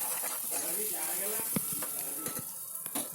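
Ginger-garlic paste and turmeric frying in a pressure cooker for a country chicken curry, giving a soft, steady sizzle with a few stirring knocks while someone talks over it.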